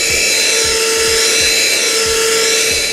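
A small vacuum cleaner draws dust off a LEGO layout, its high steady motor whine heard loud and close, with faint regular low thumps as the nozzle moves over the bricks.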